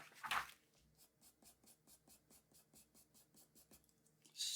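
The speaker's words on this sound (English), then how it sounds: "If we compare that to an actual pencil on a piece of paper, there we go." A pencil drawing on paper, a steady run of rhythmic scratchy strokes repeating about every quarter second, close and quiet, with a brief louder rustle at the start.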